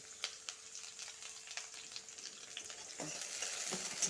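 Chopped onion and six or seven cloves of minced garlic fry in a pan with a quiet, steady sizzle, broken by light scrapes and taps of a spoon stirring.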